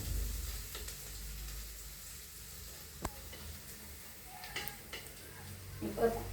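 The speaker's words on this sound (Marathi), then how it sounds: "आता मी परतून घेते सगळं" Garlic, cumin and thick coconut pieces sautéing in a pan, a soft, fairly faint sizzle with a sharp clack and a few scraping stirs near the end.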